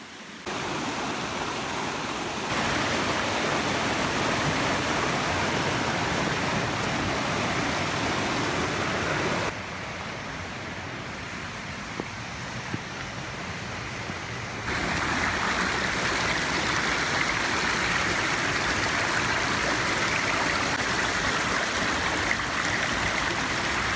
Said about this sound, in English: Now I'm getting really close to the waterfalls, so it might get quite loud.